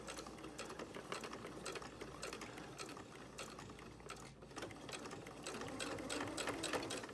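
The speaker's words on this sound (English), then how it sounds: "take it to the sewing machine" A sewing machine stitches a small cloth mask, a fast, steady mechanical chatter with a continuous hum running close and evenly throughout, with no voices.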